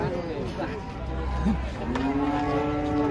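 A large cow at a cattle market, being unloaded from a truck, moos once in a short low call amid the background noise of a busy livestock market.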